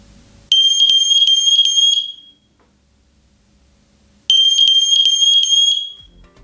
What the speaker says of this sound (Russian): Проверим сигнализацию тестовой кнопкой.